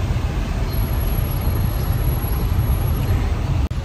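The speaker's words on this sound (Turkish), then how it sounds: "İki katlı otobüs gördüm." A double-decker bus moving through street traffic in Medina, with a loud, steady low engine rumble and road noise filling the whole stretch, close by, with no talk over it.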